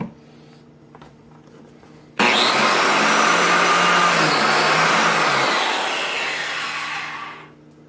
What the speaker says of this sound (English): We're going to cut a practice slot in a scrap piece of wood and see if it works.